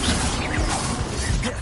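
Bombarda blasting spell in Hogwarts Legacy, a dense crashing burst of magical impact with mechanical rattling and whooshing debris, loud and close across the whole moment.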